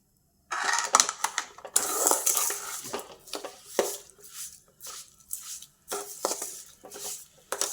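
A coconut and sugar mixture for kobbari mithai is stirred in a pot on a gas stove, with repeated scraping and clattering bursts of the spoon against the pot separated by short pauses.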